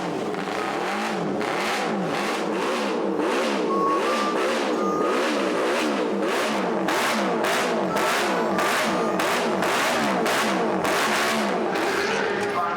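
Loud, continuous engine roar with repeated revving sweeps as motorcycles pass close by one after another at a raceway, a crowd faintly beneath.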